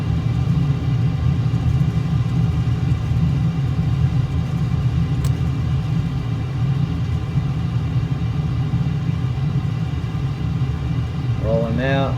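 Aircraft braking and rolling down a runway during carrier operations in Microsoft Flight Simulator 2020, a steady loud low rumble with constant engine-like drone throughout, a faint brief tick midway.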